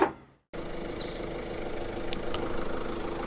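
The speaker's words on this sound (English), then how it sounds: "I'm just running the engine because the battery was going a bit flat" A car engine idles steadily at close range after a brief cut, holding a continuous mid-low hum with slight roughness and no voices, run to recharge a flat battery on a damaged salvage car.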